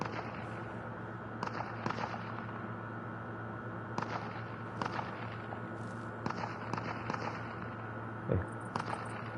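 Gunfire from computer-controlled players in a video game battle, scattered sharp cracks and pops in irregular bursts, mid-distance, over a continuous low background rumble, with no talk.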